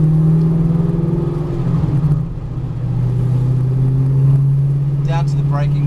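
A V8 supercar engine accelerating along a track straight, heard from inside the car as a loud, steady roar that dips briefly at a gear change and then climbs again, with the driver's voice over it.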